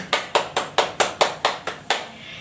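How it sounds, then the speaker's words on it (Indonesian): Eight sharp, evenly spaced claps from an Indonesian eighth-grade junior high classroom group, a quick steady unison beat that stops abruptly, close and clear against a quiet room. "Tepuk tangan buat Herman semuanya."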